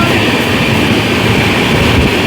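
Kolkata–Radhikapur Express passenger train running at over 100 km/h through Titagarh station, heard as a loud, steady, dense roar of wheels and rushing air that continues without a break.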